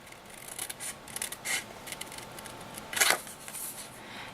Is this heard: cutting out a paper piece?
yes